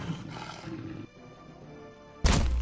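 Lion in the fantasy game Pillars of Eternity, a rough, growling roar during combat that fades, then a sudden loud, harsh blast cuts in near the end, with no voices.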